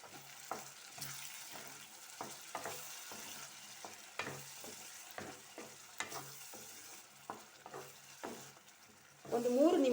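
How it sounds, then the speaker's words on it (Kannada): Spinach gojju frying in a pan, soft sizzling under repeated scraping and stirring strokes of a spoon, quiet and close. "ಒಂದು 3 ನಿಮಿಷ ಹೀಗೆ ಸ್ವಲ್ಪ ಫ್ರೈ ಮಾಡುವ."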